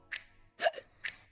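Three sharp, short hiccups spaced about half a second apart, close and fairly clear against a quiet background with a low hum.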